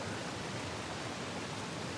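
Steady broadband rush of a waterfall in the video game Uncharted: The Lost Legacy, a continuous even roar with no pauses, heard alone and fairly loud throughout.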